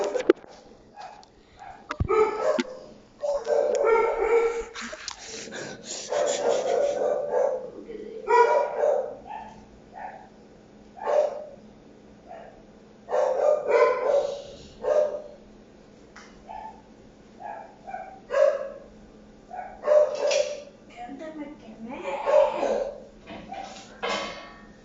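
Dogs barking in the survival video game 99 Nights in the Forest, repeated bursts of barks and yips spread throughout, with a voice speaking at times between them.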